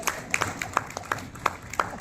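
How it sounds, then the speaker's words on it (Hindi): Sparse, distinct hand claps from a small audience at a motivational training session, about eight sharp claps spaced irregularly over a couple of seconds, near and fairly clear. "जोरदार तालियां"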